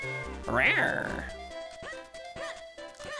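A cartoonish cat meow sounds once, loud and bright, in The Legend of Zelda: Minish Cap, followed by short game blips and tones, with a voice talking over the game.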